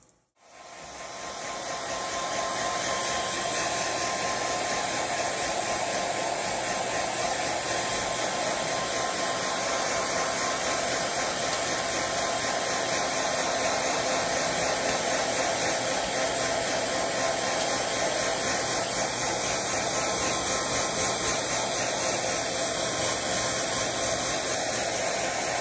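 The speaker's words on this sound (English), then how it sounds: "we'll be back right in a moment with the blow dryer" A blow dryer runs continuously to dry a pet bird after its bath, giving a loud, steady, close whooshing roar that starts abruptly and holds without a break.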